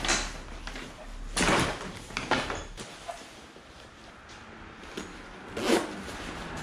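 Zippers on an NRS Chinook PFD vest being pulled open, several short scratchy zips with rustling fabric in between, close and moderately loud.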